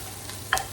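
Vegetables and tomato get stirred together in a frying pan for egg pasta, one brief scrape-and-sizzle burst standing out against a low, steady kitchen hum.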